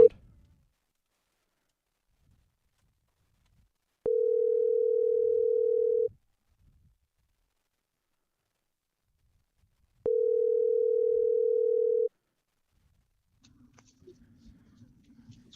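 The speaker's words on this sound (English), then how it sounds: "Get that good old ringtone sound." Outgoing telephone ringback tone as a guest is called: two steady single-pitch tones, each about two seconds long, separated by a long silence, clean and close, with faint shuffling noise near the end.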